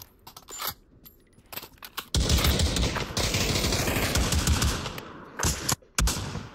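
Shotguns fire in the VR shooter Pavlov VR: a few sharp blasts and clicks at first, then a dense, loud, continuous burst of gunfire that breaks off near the end.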